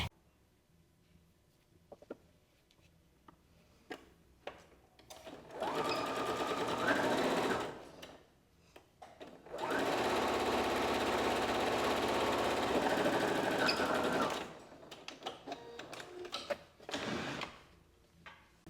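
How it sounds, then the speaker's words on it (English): A sewing machine stitching a folded fabric loop strip, two sustained close whirring runs of rapid needle clatter separated by pauses filled with small handling clicks and taps. "then we're going to sew with a 1 centimeter seam allowance away from the folded edge"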